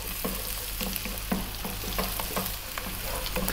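Chopped onion and garlic sizzle in a pan over high heat, a steady loud hiss broken by regular scraping knocks as the pieces are stirred.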